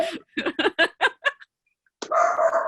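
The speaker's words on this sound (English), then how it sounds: "You're going to hear my dogs" Dogs barking indoors at home, a quick run of about six sharp, close barks, then a pause before a longer, higher whining yelp.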